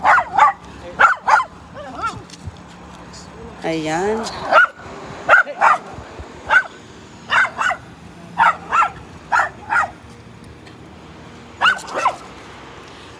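A dog barks repeatedly in short sharp bursts, fairly close, with a few yips and a whine between barks while a person speaks briefly.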